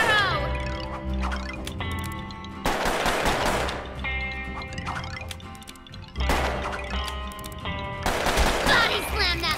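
Revolver gunfire from a twin-revolver gunslinger in the PS3 video game Puppeteer, rapid bursts of shots over swelling game music and effects, fairly loud and repeated in clusters.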